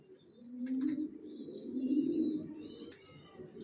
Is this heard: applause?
no